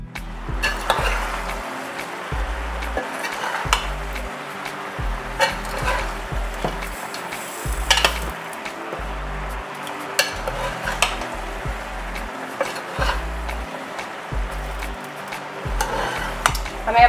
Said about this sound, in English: bear with me while I try to stir this pot